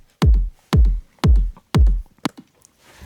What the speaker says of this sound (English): Together it makes a kick sound like this.